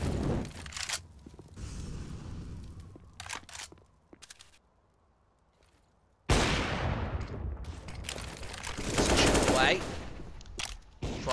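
Automatic rifle sprays in CS:GO during a G2 Esports vs HellRaisers match at DreamHack Dallas: loud rapid bursts of gunfire up front, then a quiet lull, then another long sustained spray with impact crackle.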